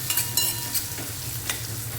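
Curry leaves and onions fry in a pan for stuffed brinjal curry, a steady close sizzle with a few stirring scrapes and crackles and no voices.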